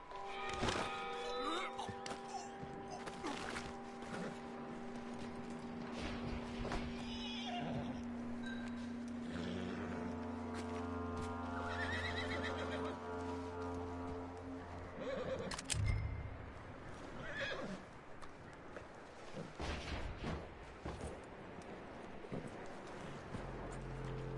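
In the game Red Dead Redemption 2, a horse neighs and whinnies loudly several times, with hoof clops and thuds in between. Voices talk over parts of it.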